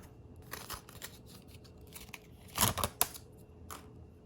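Protective plastic film peeled from AirPods Pro packaging, heard as quiet crinkly rustles, then a louder crackling tear with a sharp snap near the end, close up, with no talking.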